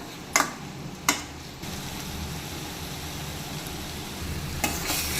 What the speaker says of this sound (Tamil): இப்போ பார்த்தீங்கன்னா காடை எண்ணெயிலே ஒரு 5 நிமிஷம் நல்லா வெந்து வரட்டும்.